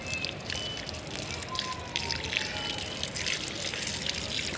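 Water runs from a hose pipe outdoors in a continuous, soft gushing flow with light splashing, steady and fairly quiet for the whole stretch.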